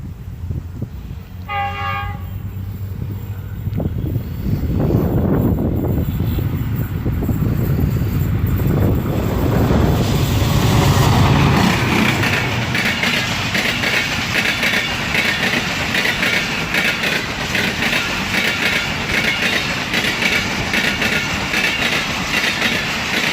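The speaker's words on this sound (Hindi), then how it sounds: "अब 9 अल्लामा इकबाल एक्सप्रेस यहां पर पहुंचने वाली है और धाबेजी रेलवे स्टेशन को काफ़ी अच्छी स्पीड में क्रॉस करने वाली है" The Allama Iqbal Express passes Dabheji railway station at speed: a brief horn blast sounds near the start, then a loud, sustained roar of wheels and carriages rushes past close by, with rattling clatter throughout.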